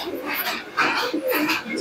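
Several pigeons cooing softly while being fed grit, a layered burbling murmur over a soft scratchy backdrop, fairly close and steady throughout.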